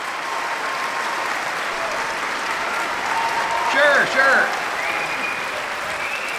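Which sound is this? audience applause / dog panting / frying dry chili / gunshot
audience applause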